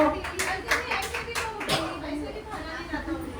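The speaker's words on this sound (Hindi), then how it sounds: "ताली बजा दो।" Children clap in scattered, uneven bursts during a Jain temple gathering, with young voices chattering and calling out over the moderately loud, close clapping.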